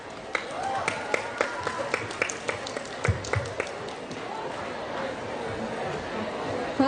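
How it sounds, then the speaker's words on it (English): An audience at a school Model United Nations conference applauds an organization, with scattered, uneven claps mixed with crowd chatter and murmuring. "give a huge round of applause for E-Cycle"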